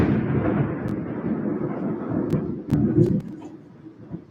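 A deep rumble of thunder from a nearby storm rolls on for several seconds, loud and low, with a second surge midway before it fades, heard indoors while embroidery work goes on.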